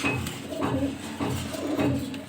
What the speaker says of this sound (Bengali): খুবই চঞ্চল কবুতর